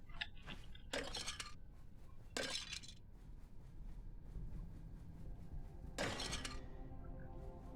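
Clay urns breaking in the game Stoneshard after critical hits: several short bright shattering crashes with scattered clinking shards, over a steady low game ambience, with no talking.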